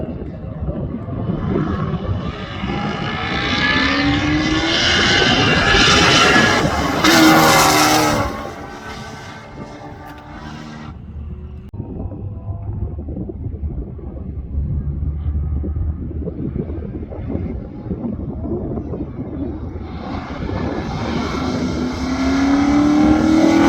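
C7 Corvette Z06 on a race track, its engine screaming through rising gear pulls, then braking hard into a corner with a quieter rumble before accelerating again.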